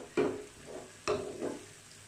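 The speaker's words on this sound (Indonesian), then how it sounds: "Ini akan kita tumis terus sampai matang ya bumbunya, sampai nggak bau mentah lagi." A spatula stirs spice paste with pineapple and onion sizzling in a pan, with two scraping strokes about a second apart over a soft, steady fry, close and quiet.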